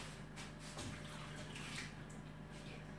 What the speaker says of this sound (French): il ne faut pas oublier de vider l'eau, bien sûr.